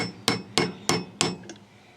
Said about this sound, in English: Now we're going to put the socket on there.